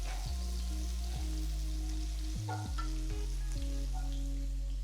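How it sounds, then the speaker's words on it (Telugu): Ginger, garlic and chopped green chili frying in oil in a pan, a steady close sizzle punctuated by a few low tonal thumps from the pan, with no talking. "ఆ తర్వాత చిన్నగా తరిగిన ఒక పచ్చిమిరపకాయ కూడా వేసి వేయించాలి."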